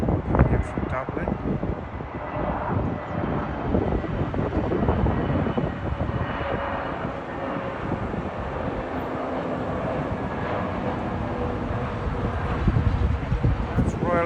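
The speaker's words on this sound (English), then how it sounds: "Aer Lingus, their A320neo, coming in from Dublin." Aer Lingus Airbus A320neo arriving at London Heathrow from Dublin, its steady broadband engine roar holding fairly constant throughout, with a voice speaking at times over it.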